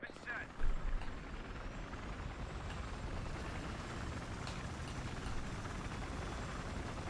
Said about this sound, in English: Alright, can we get this chopper out?